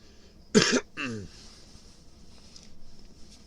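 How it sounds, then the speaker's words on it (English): A single harsh cough followed by a short throat-clearing rasp, close to the microphone, then quiet. "Pardon coughing"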